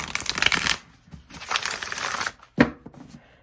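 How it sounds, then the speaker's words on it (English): A deck of tarot cards is shuffled in three bursts of papery riffling and rustling, the last ending in a sharp snap, with brief quiet gaps between and no talking. "It's a beautiful shuffle."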